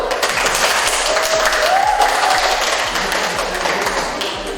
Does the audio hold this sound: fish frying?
no